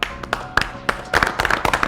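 A studio audience at a sports quiz show claps in scattered bursts, with sharp, loud individual claps, some isolated and others clustered, growing denser toward the end.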